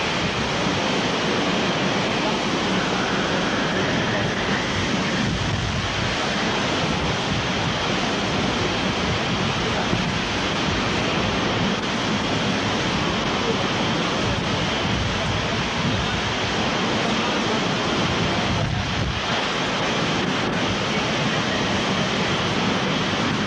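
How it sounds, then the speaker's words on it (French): Cyclone Clotilda's wind gusts on Réunion island at over 100 km/h, roaring as a loud, constant broadband rush that swells and buffets the microphone throughout, with no talk. "Des vents de plus de 100 km à l'heure en moyenne, des rafales qui montent jusqu'à 170 km à l'heure."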